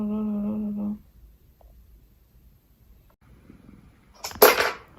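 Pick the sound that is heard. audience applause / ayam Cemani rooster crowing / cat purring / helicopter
cat purring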